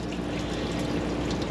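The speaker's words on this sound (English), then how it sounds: "133 degree water coming out of that." Hot water at 133 degrees runs from the faucet of a 2014 Winnebago Minnie Winnie 331K Class C motorhome, a steady, even hiss of flowing water that holds close and constant throughout.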